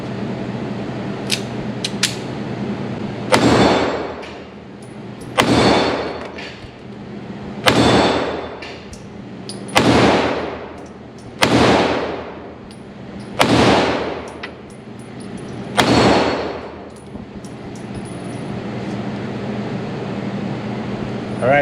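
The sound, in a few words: Beretta 85FS Cheetah .380 pistol shots hitting metal plates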